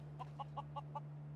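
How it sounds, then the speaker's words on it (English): Chicken in the video game Fallout 4 clucking five quick, evenly spaced times, faint over a steady low electrical hum. "is that a chicken?"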